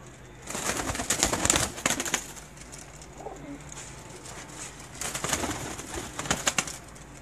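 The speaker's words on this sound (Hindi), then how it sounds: "ये जो कबूतर आप मेरी स्क्रीन पर देख रहे हैं" Champion flying pigeons coo in bursts, loudest near the start and again toward the end, with brief flutters and a steady bright chirping background.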